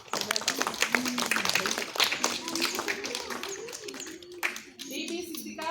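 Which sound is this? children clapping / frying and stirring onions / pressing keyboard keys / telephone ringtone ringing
children clapping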